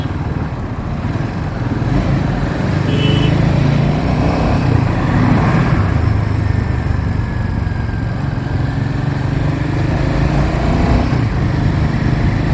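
A Royal Enfield Himalayan 450 motorcycle cruises at high speed, its engine a steady droning hum mixed with heavy wind rush, loud and continuous throughout.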